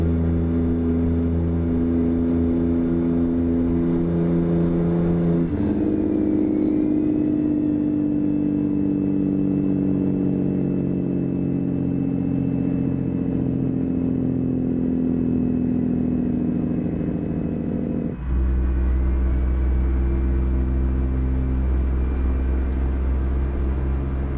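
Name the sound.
truck engine revving, from video game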